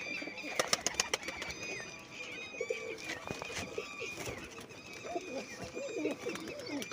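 Rooftop loft pigeons out flying, with bursts of wing claps and flapping near the start, soft cooing and scattered bird calls over steady outdoor background noise, moderately close.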